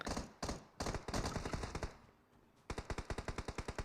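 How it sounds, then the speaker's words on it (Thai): Rapid bursts of automatic gunfire in PUBG Mobile, loud and dense, with a short pause before another steady rattling volley; no talking. "เสียงปืนกระจัดกระจาย"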